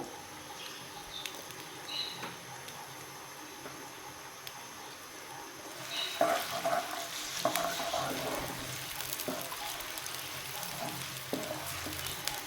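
Chopped medium onion frying in a pan for mixed dal, a continuous soft sizzle that grows busier after it goes in, with occasional stirring scrapes and light clinks, no talk.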